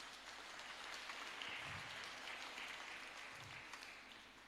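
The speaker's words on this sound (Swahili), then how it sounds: "Sisi tungempatia Bwana Yesu makofi mazuri." Applause from a congregation at a Pentecostal leaders' empowerment conference in Kiambu, a steady wash of clapping filling the hall at moderate distance, with no speech over it.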